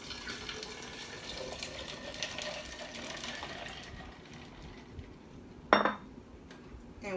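Water poured into a pitcher of kiwi lemonade with ice, a faint steady trickling wash that thins out midway, followed by a sharp clink of ice or glass near the end.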